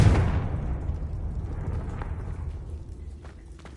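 A Confringo blast spell from a Harry Potter video game goes off as a single close boom. The explosion is loud at first, then a long rumbling tail slowly fades over several seconds.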